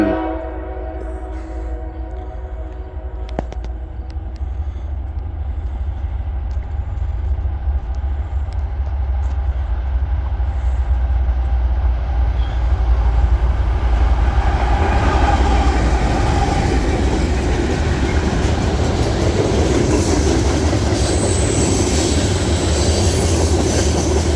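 A long train headed by a diesel locomotive running ahead of Norfolk & Western steam locomotive 611 rolls past loud and close, with steady rumbling wheels and railcar noise building and growing brighter toward the end, no voices.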